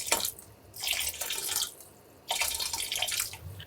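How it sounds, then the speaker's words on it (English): Beef broth poured into a pot of chili in two splashing bursts with a short pause between, fairly close and unaccompanied by voices. "I'm gonna put a couple splashes of this beef broth in"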